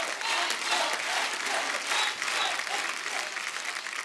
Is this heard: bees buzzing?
no